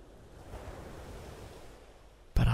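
Ocean waves wash steadily at a soft, even level, a continuous broadband surf with no voices, ending in a sudden louder burst at the very end.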